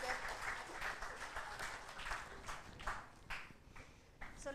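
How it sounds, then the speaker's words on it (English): Scattered audience applause at an HR conference, fairly faint and uneven, with distinct individual claps that thin out toward the end. "And a big round of applause for all of them."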